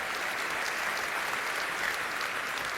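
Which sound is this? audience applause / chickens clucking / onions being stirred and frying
audience applause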